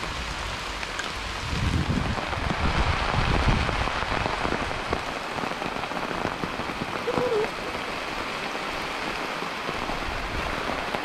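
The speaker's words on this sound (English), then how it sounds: "Rain, rain, rain." Heavy rain pours down outdoors during a spearfishing trip, a loud, steady close-up hiss on surfaces that swells near the start and keeps going throughout with no talking.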